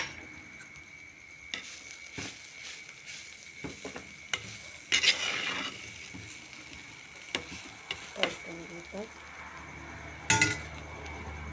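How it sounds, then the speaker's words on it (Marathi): Tender jackfruit vegetable with grated fresh coconut and coriander being sautéed in a pan, with soft sizzling under intermittent spoon scrapes and clinks against the metal, close by with no talking. "व्यवस्थित परतून घेते त्याच्यामध्ये कोथंबीर घालते"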